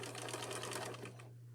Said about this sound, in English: I'm going to try and top stitch right on the thread I've already got